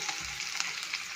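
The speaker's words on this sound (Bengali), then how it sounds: "পেঁয়াজটা একটু ভাজা ভাজা করে তারপর টমেটোটা দিয়ে দেবো" Chopped onion frying in hot oil gives a steady crackling sizzle with soft scraping stir strokes. It is close and alone, with no talk.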